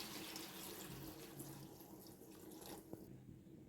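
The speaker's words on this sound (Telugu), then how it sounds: "ఇందులో సూప్ కోసం కొన్ని వాటర్ వేసుకుందాం" Steady rush of water being poured into a curry, fairly soft and continuous for a few seconds, with no voices.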